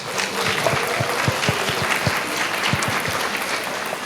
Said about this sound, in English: Let's give a round of applause to our partners.